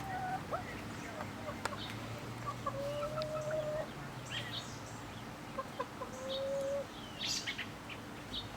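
Chickens cluck and make soft drawn-out calls nearby in a quiet, insulated, ventilated homemade coop, with a few brief chirps and low background hum.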